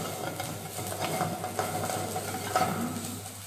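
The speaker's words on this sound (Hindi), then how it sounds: "प्याज और लहसुन के साथ भून रहा है।" Spinach frying with onion and garlic in a pan, a steady close sizzle with faint stirring scrapes running throughout at moderate level.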